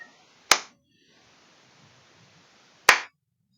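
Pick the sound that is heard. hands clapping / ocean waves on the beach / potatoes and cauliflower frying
hands clapping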